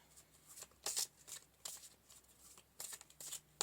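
Tarot cards are shuffled in quick, soft riffling bursts, close and quiet, with brief pauses between the flurries.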